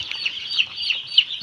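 Broiler chickens on a farm give soft, short clucks, a few spaced calls over a low barn background, fairly close and without talk.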